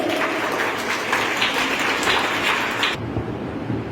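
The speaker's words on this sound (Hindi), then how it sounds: "जरा उनका तालियों से लिए" Steady applause from an audience at a poetry recital welcoming the next poet, a dense even patter for about three seconds before cutting off abruptly into quieter room noise.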